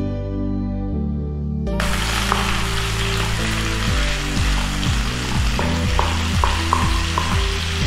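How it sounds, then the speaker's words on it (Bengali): Onions hit hot oil in a pan with bay leaf, bursting into a loud, steady sizzle after a brief quieter moment, with light clinks of stirring and a tonal hum underneath; no talking. "এই পেঁয়াজ ভাজার সঙ্গে সঙ্গেই আমি তেজপাতাটা দিয়ে দেব।"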